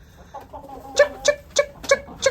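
A Bielefelder chicken clucks five times in an evenly spaced series of short, fairly loud calls, close by and alone, with quieter softer clucks from the flock just before.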